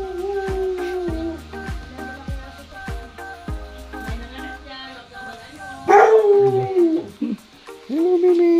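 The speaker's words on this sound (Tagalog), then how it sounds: "Ang laki ng aso." A dog howls in long, wavering cries with rising and falling pitch, mixed with short sharp barks and a few louder yelps near the end, close and fairly loud.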